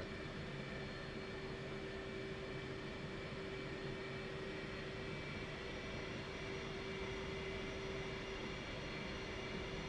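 Steady jet engine roar from an F/A-18 during takeoff in the DCS flight simulator, a continuous broadband rumble with a constant whine on top, held evenly throughout with no talk.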